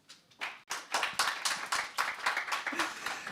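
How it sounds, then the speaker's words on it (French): Scattered audience clapping for panel members at a cybersecurity conference, with distinct claps that quickly build into a rhythmic patter of hands at moderate loudness, without talk. "Messieurs, dames, on peut les applaudir."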